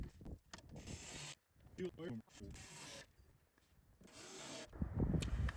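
Screws being driven back into the air filter cover of a 2022 Genesis GV80, heard as quiet bursts of ratcheting and rubbing plastic clicks close by, separated by pauses.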